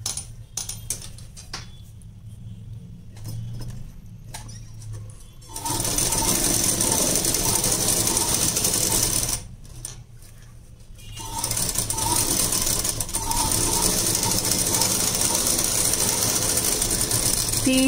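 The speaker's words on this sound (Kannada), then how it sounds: "ಈಗ ನೋಡಿ ಈ ಥರ ಸ್ಟಿಚ್ ಹಾಕೊಂತೀನಿ." Sewing machine stitching blouse fabric, running in two long continuous whirring bursts with a steady mechanical rattle, separated by quieter pauses filled with handling clicks, no talking.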